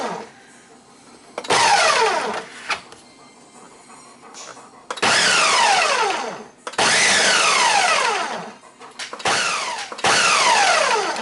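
A kitchen blender pulsing roasted eggplant dip with roasted garlic, in several loud short bursts of whirring blade noise separated by quiet pauses, no talking.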